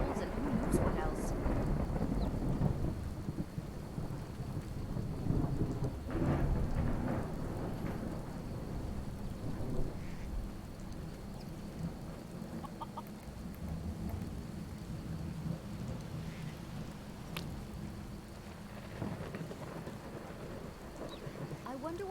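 A rainstorm in the video game Skyrim SE, with steady rain hiss and low rolling thunder rumbles, strongest early then settling into continuous rainfall, with a voice speaking over parts of it.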